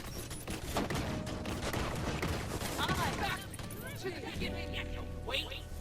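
Rapid gunfire from Borderlands 3 on Mayhem 4 difficulty, dense bursts of shots layered with game effects running continuously and loud, with a voice talking over the action.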